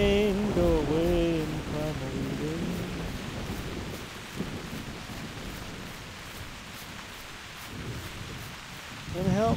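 Steady rain hiss with low rumbling thunder rolling underneath in the video game theHunter: Primal, while a voice talks over the first few seconds; the rumble swells again near the end.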